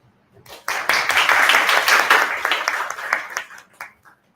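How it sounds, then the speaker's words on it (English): An audience at a school annual day function applauds the chief guest, a dense, steady burst of clapping lasting a few seconds before tapering off, with a few scattered claps trailing at the end. "A round of applause for our chief guest."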